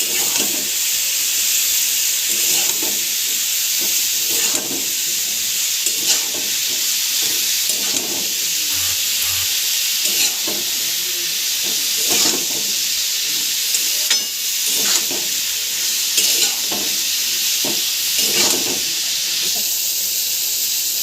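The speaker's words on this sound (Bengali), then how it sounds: "ভাজা হয়ে গেছে ওল ডাঁটাটা" Elephant foot yam stalks frying in a pan with salt and turmeric, a steady close hiss and sizzle with occasional scraping stirs throughout.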